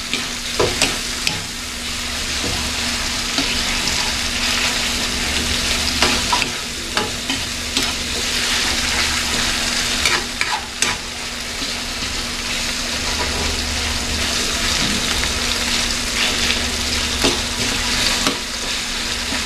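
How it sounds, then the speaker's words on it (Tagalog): Food fries in a pan with a steady loud sizzle while a spoon stirs it, scraping and clinking against the metal at irregular intervals. "Halo-halo lang, isa-isa."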